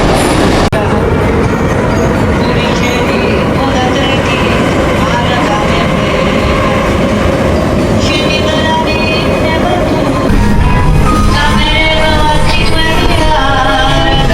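A metro train in Tbilisi, Georgia, rumbles loudly and steadily, with a rising whine of motors near the end and a voice speaking over the noise.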